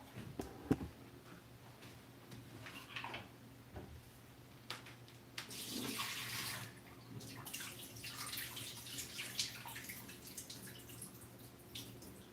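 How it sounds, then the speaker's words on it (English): Tap water runs over baking-soda-soaked chickpeas being rinsed in a kitchen, a faint, steady low hiss of flowing water with scattered drips and small clinks, no talking. "I'm just gonna rinse it a couple of times."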